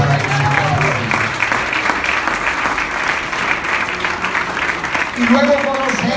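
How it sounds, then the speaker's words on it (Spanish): Church congregation applauding during a sermon, steady full clapping throughout, with voices faintly audible underneath. "Un aplauso fuerte para el Señor"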